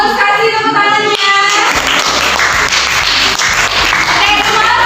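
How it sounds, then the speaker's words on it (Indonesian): Classmates clap for a group's presentation in a classroom lesson, with a short musical tone fading out first, then a loud, busy patter of many hands filling the rest of the moment. "kasih tepuk tangannya"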